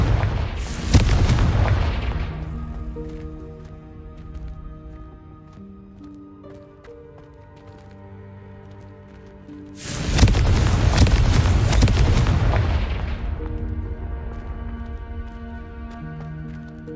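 Confringo blasting spell exploding in Hogwarts Legacy: two loud booming blasts about nine seconds apart, each a sharp crack that rolls into a long rumbling decay over sustained tonal game music.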